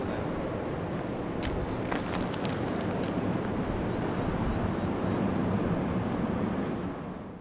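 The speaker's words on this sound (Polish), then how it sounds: "A to jest dźwięk wulkanu" Deep, continuous roar from a volcano crater several hundred metres deep with lava inside, a steady broadband rumble mixed with wind buffeting the microphone, fading slightly at the end.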